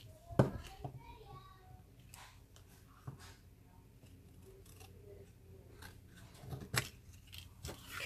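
Scissors snip through a trimmed-down card, giving a few sharp cuts near the start and again near the end amid quiet handling noises, with no talking.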